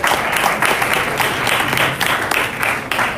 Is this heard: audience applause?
yes